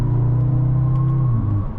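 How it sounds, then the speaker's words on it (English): Turbocharged four-cylinder engine of a 2023 Audi S3 Premium Plus while driving, a steady, deep, close-up hum with a low droning tone that holds throughout, easing slightly at the end. "It's shocking how good this 4-cylinder sounds."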